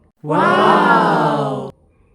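A single loud rooster crow rings out close by, one drawn-out call lasting about a second and a half, with nothing else around it.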